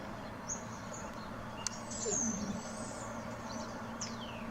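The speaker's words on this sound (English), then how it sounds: "You can hear the birds chirping because they hear the sounds." Faint, sparse bird chirps and calls rise over a steady low outdoor hum, with a few brief high tweets scattered through.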